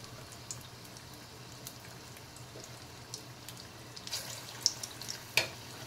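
Batter balls for kat vada frying in hot oil, giving a faint, steady sizzle with occasional soft pops and crackles growing slightly toward the end.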